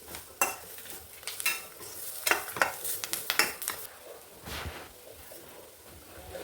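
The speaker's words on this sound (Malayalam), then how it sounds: "മുളക് പൊടിയും മഞ്ഞൾപ്പൊടിയും കുരുമുളക് പൊടിയും കൂടി ചേർത്ത് നന്നായിട്ട് വഴറ്റിയെടുക്കാം" Sliced tindora is sautéed in a pan with chilli, turmeric and pepper powder, with a spoon scraping and stirring in irregular strokes over a soft, continuous sizzle, close and clear with no talking.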